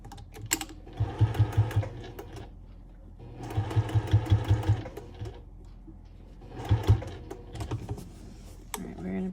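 A sewing machine stitches bias binding onto a quilted half-hexie table runner in three close, loud bursts of rapid needle chatter separated by short pauses.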